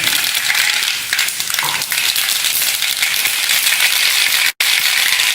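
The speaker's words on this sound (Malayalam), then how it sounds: "കടുക് പൊട്ടി വരുമ്പോഴത്തേക്ക്" Mustard seeds pop and spit in hot oil for a mango pickle, a dense, steady crackling sizzle that carries on without pause, close and fairly loud, with no talking.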